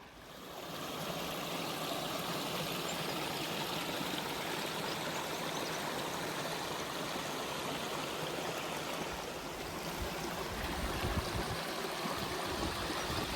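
Mickleden Beck, a brook below the Cut Gate path, flows in a steady broadband rush of water that continues loud and close without a break.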